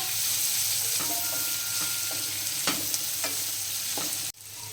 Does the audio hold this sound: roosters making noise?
no